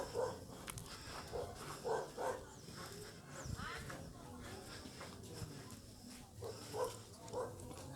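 Guard dogs in a fishing village bark in short bursts at a moderate distance, with people talking over them.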